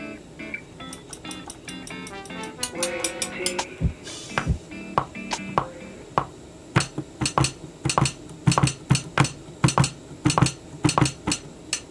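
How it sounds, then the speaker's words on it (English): Metal spoons clink and tick in a series of sharp, bright hits, sparse at first and then falling into a steady, fairly loud percussive rhythm like a hi-hat pattern, with no talking. "So here's our spoon sound."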